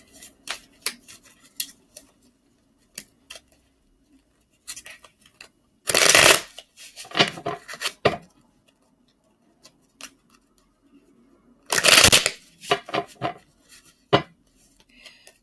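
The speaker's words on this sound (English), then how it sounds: "let me shuffle again" Tarot cards shuffle in short crisp riffles and bursts, two louder shuffling flurries separated by quieter taps and card handling, close and otherwise quiet.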